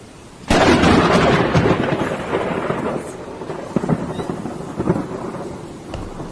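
A thunderstorm over Oman breaks with a sudden loud thunderclap that rumbles and slowly fades over several seconds, with steady rain and a few sharper crackles beneath it.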